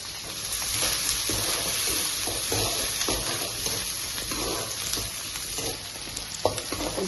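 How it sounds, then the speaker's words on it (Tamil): Onions and curry leaves frying in oil for a chicken gravy, stirred with a steady scraping rhythm under a continuous sizzle, close and moderately loud, no voices. "இப்போ வெங்காயம் வதங்கிடுச்சு."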